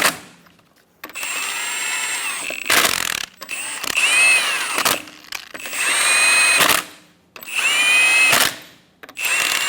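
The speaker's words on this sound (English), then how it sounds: "Snug the lug nuts down." A power tool tightens the wheel lug nuts on a 2014-2018 Chevrolet Silverado 1500 pickup, five loud whirring bursts separated by short pauses, each rising in pitch as the nut snugs down, close and with no talking.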